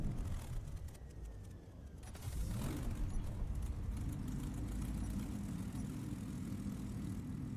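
Spaceship engines and hydrogen tanks in the video game Space Engineers build into a steady low rushing roar that swells after a quieter start and holds continuously.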